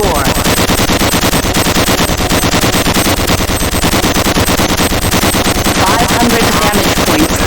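Rapid, continuous automatic gunfire at a basic weapons range in the video game Gunman, a dense, loud stream of shots that runs steadily throughout with no pause.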